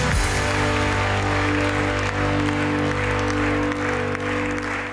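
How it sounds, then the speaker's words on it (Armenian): A studio audience claps steadily for a contestant invited on stage during a humor show, a sustained even round of applause that tapers slightly near the end, with no talk over it. "Եկեք ծափարենք եւ այստեղ հրավիրենք Անահիտ Գալուստովային։"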